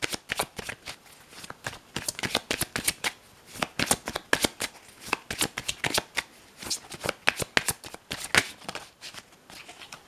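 Tarot cards being shuffled by hand for a reading, a steady run of crisp riffling slaps and flutters with short pauses, close and clear, with no talking.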